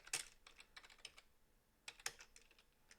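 Fingers typing a search query on a computer keyboard, quiet, close clicking keystrokes in two quick bursts with a brief pause between, no voices.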